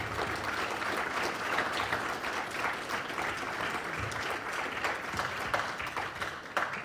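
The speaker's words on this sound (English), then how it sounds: "So let's give these guys a round of applause." A school board forum audience applauding the candidates, a dense, steady spread of clapping from a room full of people that holds for about seven seconds.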